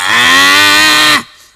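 A person imitates a buffalo bellowing, voicing one loud, sustained, low moo-like call that holds steady for over a second and then cuts off sharply, close and alone.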